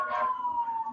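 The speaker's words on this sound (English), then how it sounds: "I apologize for the siren in the background." A steady emergency siren wails at a fairly loud level, its tone holding nearly level and dipping slightly over a single continuous second.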